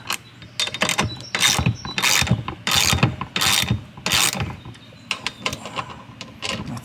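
A hand tool ratchets as it tightens the threaded body of an AO Smith 4.5-inch carbon whole-house water filter, in bursts of quick close clicking separated by short pauses, loud and with no speech.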